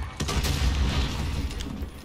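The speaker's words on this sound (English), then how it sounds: "That's a grenade." Heavy booming blast in the Modern Warfare video game, a grenade detonation with a deep low rumble that swells and lingers, alongside scattered sharp pops, fairly loud with no talk over it.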